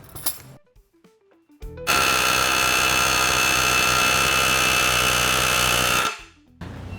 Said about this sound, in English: I want to put a chisel on and see if I can use it to punch those rivets that are stuck in the chassis